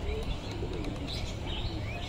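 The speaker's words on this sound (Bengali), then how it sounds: "এই যে কবুতরগুলি নিচে নেমে আসছে" Female pigeons coo softly as they come down to land, a faint murmuring coo with light chirps over a steady background hum, no voices.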